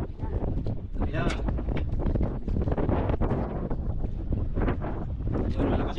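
Strong wind gusts buffet the microphone at an outdoor fishing spot, a constant rough roar that nearly covers people talking throughout.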